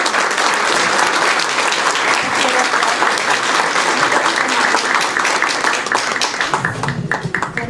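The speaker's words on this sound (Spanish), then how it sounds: "Yo quisiera pedir un aplauso al nuestro moderador." Sustained, dense applause from a seated audience at a panel event, steady and loud throughout before thinning slightly near the end.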